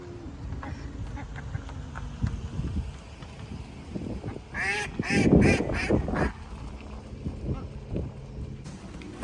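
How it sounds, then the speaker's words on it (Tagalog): Ducks quacking in a short burst near the middle, fairly close and loud, over a busy outdoor background with scattered knocks and faint murmurs of people nearby. "Come here, duck. Hi, ducks."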